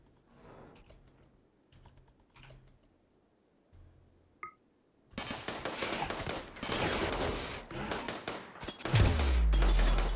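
Turret gunfire from a RimWorld colony defense rattles in a dense, continuous burst through the second half after a quieter stretch of scattered clicks, loud and sustained with a heavy low thump near the end.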